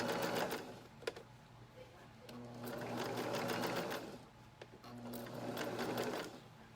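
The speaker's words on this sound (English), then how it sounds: "Sewing and embroidery." A sewing and embroidery machine stitching fabric for an in-the-hoop bib, running in steady rapid mechanical bursts with short pauses between runs, fairly quiet and close.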